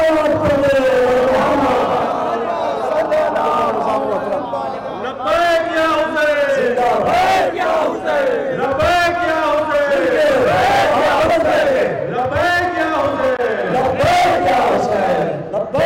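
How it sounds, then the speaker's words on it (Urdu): A large crowd at a Muharram procession chants "Labbaik ya Hussain" in loud, rhythmic unison, voices rising and falling together in repeated religious slogans that fill the space continuously. "لبیک یا حسین کے نعرے بلند ہوتے ہیں"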